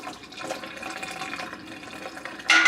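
Whey strained from goat's milk farmer's cheese pours down a kitchen sink drain in a steady close splashing flow, ending in a louder rush of running water.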